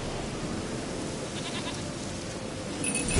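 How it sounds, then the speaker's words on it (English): A goat bleats in The Witcher 3 video game, short nasal calls set against a dense, noisy game soundscape with a brief bright chime near the end. "Here, goat."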